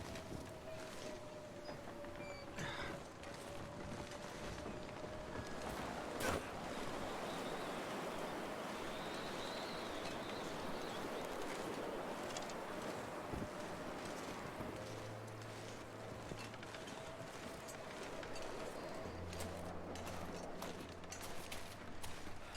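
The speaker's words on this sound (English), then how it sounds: "it's just a horrible, horrible headwind" Howling headwind in the snowy wilderness of the survival game The Long Dark, a steady broadband roar of blizzard-like gusts sustained across the whole stretch, with faint low tonal hums drifting in near the end.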